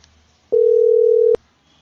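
A telephone tone sounds as a single steady, pure beep lasting under a second, loud and close, with near silence before and after.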